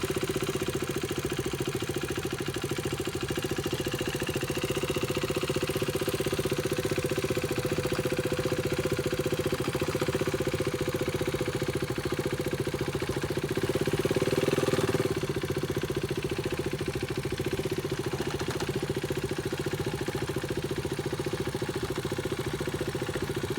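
A motorcycle engine runs at low speed under clutch control, a steady low idle-like thrum with a slight swell of throttle midway, fairly faint and without talk.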